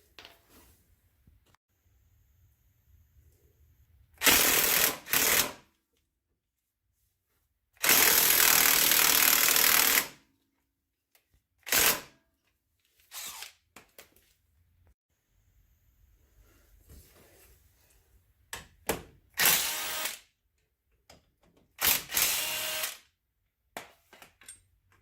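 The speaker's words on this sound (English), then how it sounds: "Gotta love these cordless impacts." Cordless impact wrench removing hub bolts on a Polaris RZR 570, several loud bursts of hammering rattle, one long and others short, separated by quiet gaps with faint handling clatter.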